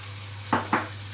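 Garlic and peppers sizzle in a hot pan as they are stirred, giving two quick scraping bursts of frying noise over a steady low hum, close and fairly quiet.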